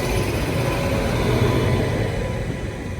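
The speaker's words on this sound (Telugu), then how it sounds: "వ్యాప్ 7 లోకోమోటివ్." A WAP-7 electric locomotive-hauled train passes close by near a junction, a loud, continuous rumble and broadband roar of wheels on rails that stays steady throughout.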